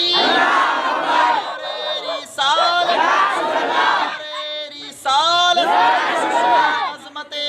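A large crowd at a religious gathering chants loudly in unison in answer to a takbir call, in three or four surging shouted phrases separated by short gaps.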